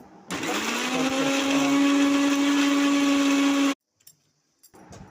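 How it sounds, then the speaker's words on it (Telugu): A mixer grinder whirs loudly at a steady high pitch for a few seconds while grinding tomatoes, then cuts off abruptly, leaving near silence. "దాన్ని వేసి మిక్సీ పెట్టుకోవాలి"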